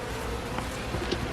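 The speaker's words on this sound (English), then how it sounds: "Holy smokes, we got lots of bees on here." Honey bees buzz densely around an opened hive during an end-of-May inspection, a close, steady hum with no talking.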